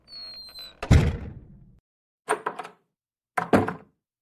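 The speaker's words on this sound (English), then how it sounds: "and those doors shut." Doors shut with three separate heavy thuds, close by, spaced about a second apart in an otherwise quiet space.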